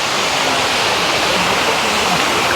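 A small waterfall, Mazhavil Chattam at Thusharagiri, pours strongly downhill in a continuous loud, hissing rush of falling water, steady and close throughout, with no talk.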